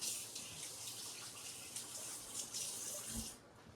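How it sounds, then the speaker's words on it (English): Water runs steadily from a kitchen tap as hands are washed under it, a continuous broadband rush with faint splashing that stops abruptly near the end, heard close in a home cooking setting. "Wash my hands here quickly."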